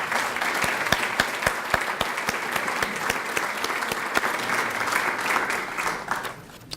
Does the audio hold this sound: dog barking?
no